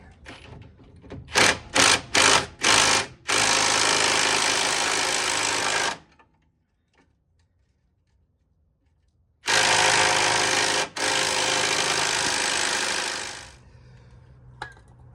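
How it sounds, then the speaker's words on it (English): An impact wrench on a long extension hammers at a 21 mm rear control arm bolt on a Jeep JKU: several short bursts, then two long sustained rattling runs separated by a few seconds of near silence, loud and close, with no talk. "try to get that impact in there with a long extension, and we'll see if we can get this out"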